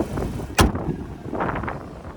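A single sharp slam of a 2025 Lincoln Corsair car door cuts through outdoor wind and background rumble, followed by faint rustling and shuffling.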